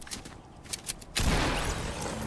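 Gunfire in a shooter video game: a few sharp distant cracks early on, then a sudden loud burst of shots that settles into sustained, dense firing noise.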